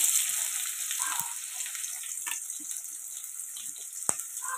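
Onions tipped into hot oil left from frying potatoes sizzle in a steady, close hiss, with a few soft clinks and stirring knocks.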